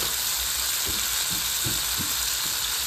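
Spices fry with ground dried chilli in a pan for a chicken dish, a steady close sizzle broken by a few soft stirring scrapes, with no talking.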